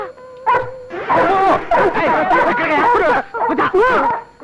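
Several dog barks and yips come in bursts close by, mixed with people talking over them.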